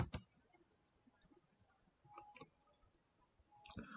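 A single Enter key pressed on a computer keyboard during a Samba command-line session on Android, heard as a few sharp, faint plastic clicks scattered over quiet background, with a clearer key tap near the end.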